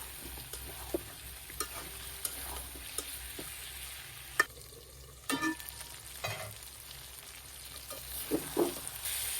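Chicken cooking in a pan with cumin, turmeric and chili powder: a continuous low sizzle broken by occasional sharp utensil clicks and scrapes against the pan, with no voices.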